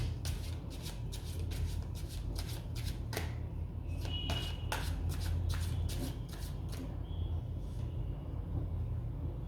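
A deck of tarot cards is shuffled by hand, giving a close series of crisp riffling flicks and slaps over a steady low background hum.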